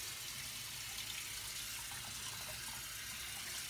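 Tap water runs steadily into a sink for rinsing a face, a soft continuous hiss and splash at low level, even and unbroken throughout, with no speech.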